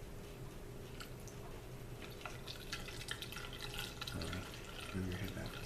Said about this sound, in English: So I'm going to go ahead and pour this in the funnel slowly.